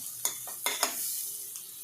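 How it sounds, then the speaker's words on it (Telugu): Finely chopped onions frying in butter for pav bhaji, a steady soft sizzle with a few louder stirring scrapes, close and alone without talk. "బటర్లో ఫ్రై అవ్వాలి కదా"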